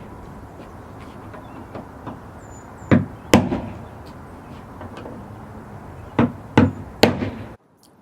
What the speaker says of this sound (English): take a screwdriver that fits your screws, and you want to just give them a sharp tap